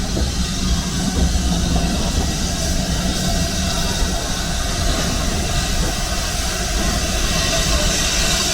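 On the Great Central Railway, a steam train approaching makes a steady, loud rumble with hiss, rolling without pause.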